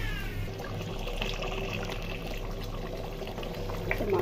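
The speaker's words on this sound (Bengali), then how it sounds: "ঝোলের পানি দিয়ে দিই।" Beef curry made with Eid sacrificial meat simmers after water has been added, giving a low, steady bubbling hiss against a constant background hum.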